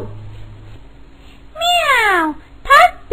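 A storytelling voice imitates a cat's meow during a children's tale. After a quiet start comes one long, drawn-out falling meow, followed by a shorter, sharper second meow, both loud and close.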